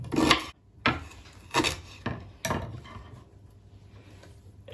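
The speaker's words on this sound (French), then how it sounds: "Je coupe assez grossièrement" A knife chops ginger coarsely on a board, giving five or six separate crisp strikes spaced about half a second apart, each with a short scraping tail, close up and fairly quiet with no voices.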